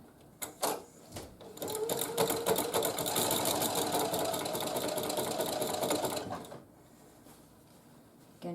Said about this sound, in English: we're going to start sewing on this one